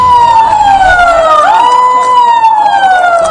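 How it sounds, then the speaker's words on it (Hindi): A loud siren wails continuously outdoors in Madhya Pradesh at 11 a.m., its pitch sliding slowly downward, dipping, then rising again, with traffic rumble underneath. "मध्य प्रदेश में सुबह 11 बजे जैसे ही सायरन की आवाज सुनाई दी"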